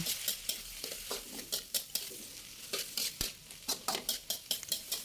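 Vegetables being stir-fried in a pan with oyster sauce and salty soy sauce, with a continuous sizzle and rhythmic scraping, clattering strokes of a utensil against the metal.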